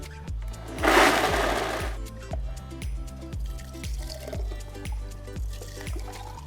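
A blender mixes a frozen gin cocktail of ice, club soda, simple syrup, lemon juice and basil, giving a pulsing, rhythmic whir with a brief louder burst near the start, heard alone at moderate volume.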